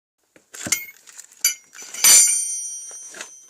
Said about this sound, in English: Alright, I've got all of the lugs loosened.